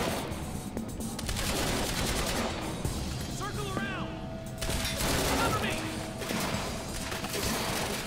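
Gunfire in the Quantum Break video game: dense bursts of rapid shots and crashes from a firefight, with a voice speaking over the din.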